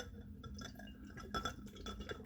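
Wine being poured into a glass indoors, giving a light liquid splash and faint clinks of glass, quiet and close, with a brief louder burst midway and no talking.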